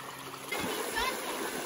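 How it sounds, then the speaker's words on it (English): Creek water flows and splashes in a soft, steady babble, quiet at first and then fuller and closer after a brief shift. "What a beautiful day at the creek."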